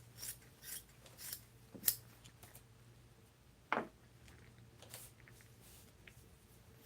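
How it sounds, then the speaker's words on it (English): Scissors snip through material being cut into strips for a model airplane build, a few quiet, separate snips scattered across the clip with one sharper cut partway through. "So I'll go cut this into strips."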